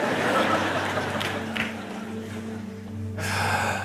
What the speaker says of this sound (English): No, just I physically breathe.